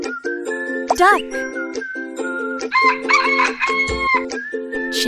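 Rooster crowing in a children's animal puzzle game: a clear, wavering cock-a-doodle-doo over cheerful looping background music, followed by a second, longer crowing phrase.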